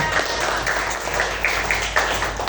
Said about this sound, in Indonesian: Oke, bagus, tepuk tangan untuk kita semua.